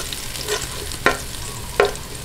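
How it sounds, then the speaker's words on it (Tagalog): Garlic sautéing in a pan as it browns, a steady soft sizzle with a few sharp stir scrapes of a utensil against the pan, no talking. "At ayan, atin lang pong gisa-gisahin hanggang mag-light brown"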